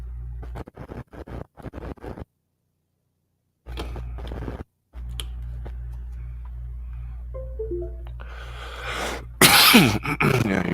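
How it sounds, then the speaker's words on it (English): A series of short coughs and throat-clearing bursts at close range over a steady low electrical hum, followed by mechanical noises and a loud burst near the end. "you can hear me with my coughing"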